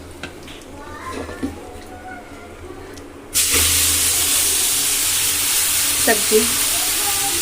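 Bottle gourd (ghiya) hits hot oil with cumin and turmeric in a kadhai and erupts into a loud, steady sizzle that runs on to the end, with someone speaking briefly over it and a clink near the close.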